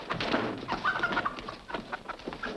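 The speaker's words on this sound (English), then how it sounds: "Chicken." Chickens cluck and squawk in a busy, overlapping flurry of calls, fairly close and steady throughout with no speech.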